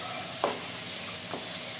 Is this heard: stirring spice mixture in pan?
yes